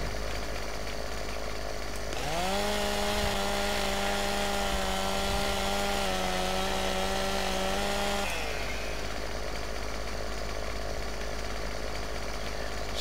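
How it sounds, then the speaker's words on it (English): A stump grinder chewing through tree stumps, a steady droning engine whine that rises sharply, holds a loud grinding tone for about six seconds, then drops back to a lower idle hum outdoors. "This is why I got the stump grinder, because of all these irritating little branches and things that are in the way."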